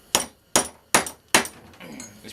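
Four evenly spaced hammer blows strike the flared end of a metal exhaust pipe made from a rake handle, each a loud, close, ringing clank that fades before the next, followed by a softer shuffle.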